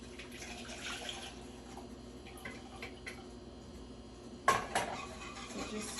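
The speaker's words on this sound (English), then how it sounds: "we're going to put it inside the pot and stir it for a little bit" Honey glaze sauce for ham being stirred in a cooking pot, with faint, scattered clinks and scrapes of a utensil against metal over a soft, steady kitchen background; no one speaks.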